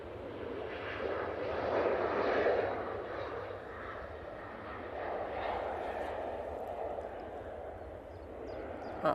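Embraer jet in SkyTeam livery rolling for takeoff at Manchester Airport, a broad, steady engine roar at moderate distance that swells and eases slightly, with a voice talking over it.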